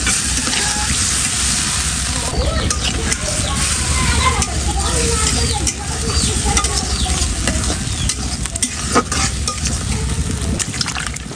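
Hot oil sizzles steadily in a pan while food is sautéed and stirred, a dense, close frying hiss with occasional spatula scrapes, and a voice talks over it throughout.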